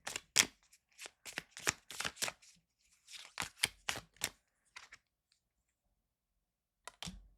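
Tarot cards being shuffled close up in short, crisp riffling bursts with brief pauses between, ending after a quiet gap with one final snap.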